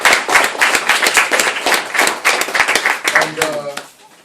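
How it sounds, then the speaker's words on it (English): A small congregation claps hands in praise on the Shabbat, a run of distinct, rhythmic, fairly close claps that trails off at the end as a voice begins speaking. "let's give a hand clap for the Most High today on the Shabbat"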